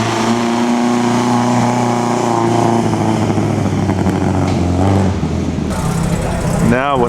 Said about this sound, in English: sounds like it might have a Triumph engine or something